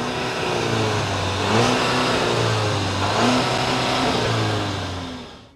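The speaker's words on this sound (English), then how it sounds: "Exhaust sounds are okay." An Audi A4 engine revs up twice with a throaty exhaust note, idling in between, close by, before the sound fades away.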